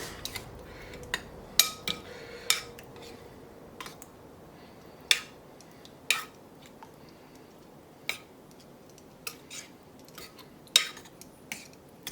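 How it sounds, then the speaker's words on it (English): A spoon stirs half a teaspoon of ground black pepper and salt into a meatball sauce, giving sparse, light clinks and taps against the bowl spread over a quiet background. "We want to stir that together."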